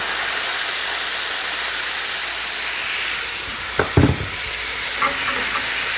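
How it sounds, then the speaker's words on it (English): Chicken gizzards sauté in a hot pan with dry white vermouth, giving a continuous close sizzle and hiss, broken by a few clinks and scrapes of stirring near the end. "we're gonna saute this in for about a minute"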